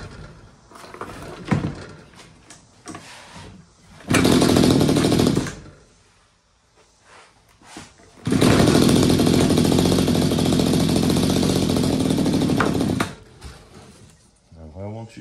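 A Mantis tiller's small two-stroke engine roars to life in two loud bursts, one short and one sustained for several seconds, then drops away unevenly as if struggling to idle; sparse talk and handling noises fill the gaps between runs.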